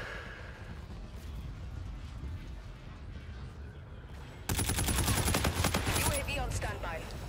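Rapid bursts of automatic gunfire in a military video game erupt loud and dense about midway through, sustained volleys with overlapping shots following a quieter stretch of ambient game noise.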